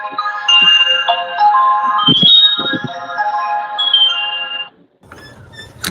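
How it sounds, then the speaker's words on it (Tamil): A phone ringtone plays a loud, melodic electronic tune for several seconds, close by and in the clear, then stops abruptly, followed by faint noise. "கரெக்டாக நம்ம எப்போல்லாம் லைவ் போடுறோமோ அப்போல்லாம் ஃபோன் வந்துடுது"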